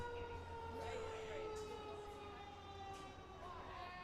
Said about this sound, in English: First pitch to Crescent as some sirens come in.